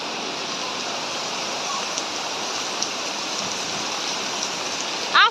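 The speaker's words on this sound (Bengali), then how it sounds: "আজকেও বৃষ্টি" Steady rain falls outside a village home, a dense, even hiss that continues unbroken and fairly loud, with a brief louder clatter right at the end.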